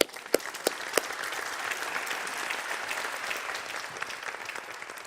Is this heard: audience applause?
yes